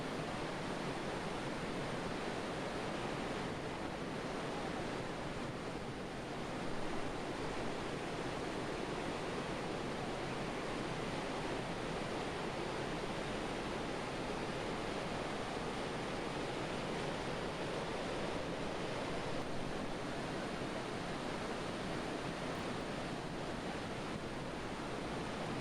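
The Provo River rushes turbulently in late spring, a loud, continuous broadband roar of churning water heard up close and unbroken for the whole stretch.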